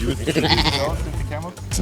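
Goats bleating loudly and close at a desert film set, a wavering, quavering cry lasting over a second, followed by a shorter bleat, with people talking around it.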